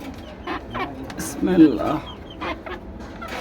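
Laying hens cluck in short, repeated calls at close range, with one louder burst in the middle, while a person briefly speaks.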